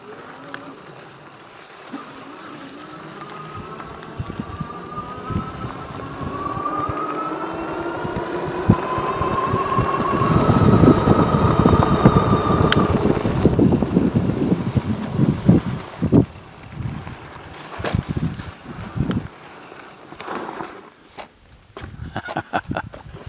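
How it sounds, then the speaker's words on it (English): A HappyRun G70 electric bike on a ride: a motor whine rising in pitch as it speeds up, with wind noise and rattling bumps, rumbling louder midway then easing off. "Now we go for a ride. HappyRun G70."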